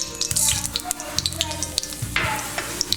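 Ground black pepper hits hot coconut oil with a close, crackling sizzle, broken by brief stirring scrapes and pops over a few seconds.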